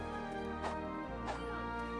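A dog barks twice in an indie video game, two short yelps over a steady droning game soundtrack.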